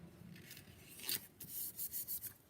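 Foil transfer sheet pressed and rubbed onto a card while making Christmas cards, heard as a quiet rasping rub that builds into several short, close rhythmic strokes.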